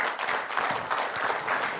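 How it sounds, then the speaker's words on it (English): An audience at a conference keynote gives a short round of applause, a dense wash of many hands clapping at moderate level. "Can we have a round of applause for Virat Kohli,"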